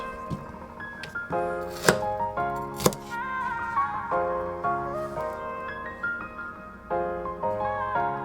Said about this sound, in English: I always find cutting vegetables to be such a, kind of like a therapeutic type of thing.